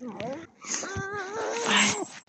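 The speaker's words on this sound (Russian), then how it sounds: "Господи, вон собака." A neighbour's dog in the snow gives short whimpering, whiny yelps up close, mixed with a person's voice talking over it.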